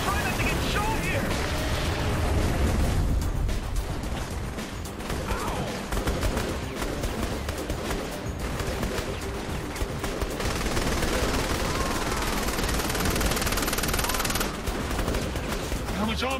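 Rapid gunfire in Saints Row: The Third, with machine-gun bursts and booming blasts that rattle on almost nonstop while voices speak over the chaos.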